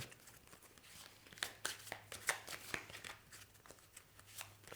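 Soft, close riffling and snapping of a deck of tarot cards being shuffled, in quick irregular bursts at low volume.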